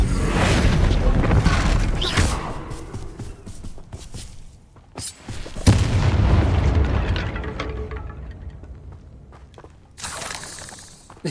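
In Hogwarts Legacy, the Bombarda explosion spell goes off in loud, deep booms with crumbling, shattering debris. The biggest blasts come early and in the middle, followed by rumbling tails and a final burst near the end.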